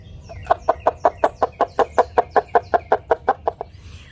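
A cup-and-string noisemaker squawks out a fast, steady run of about seventeen loud clucks, imitating a chicken, then stops.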